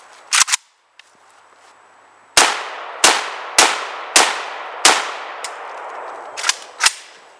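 Rapid rifle shots from an AK fired at an Xbox 360 console: about eight loud, sharp cracks with metallic clangs. They come as a quick pair, then a spaced series and a final pair, and each ringing impact decays quickly.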